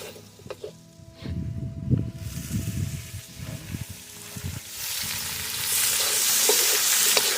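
Grated radish tipped into a pan of half-cooked potatoes, a few soft thumps and stirring scrapes, then a rising, loud steady sizzle taking over near the end.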